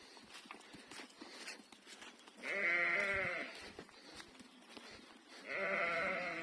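Two loud, drawn-out sheep bleats, the second a few seconds after the first, over a background of shuffling hooves and rustling as a flock heads out to graze.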